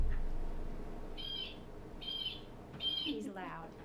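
Birds, apparently owls, call three times in a row at an indoor conservation presentation, each call a short bright burst, followed by a rising squeal near the end, all over a steady low room hum.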